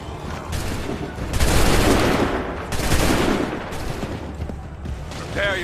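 A musket volley fired in Assassin's Creed III, a loud ragged crackle of many shots bursting together, then more scattered rolling gunfire and a second rattling wave, dense and close.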